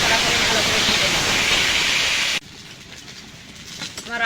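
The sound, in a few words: potatoes frying in hot oil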